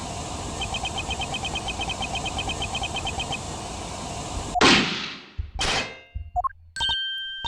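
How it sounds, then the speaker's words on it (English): On a bug recording in Ace Attorney Investigations 2, one sharp, loud gunshot cracks out of a steady hissy background. Ringing clangs and electronic blips follow as the recording cuts off. "Wait, that noise! That was a gunshot."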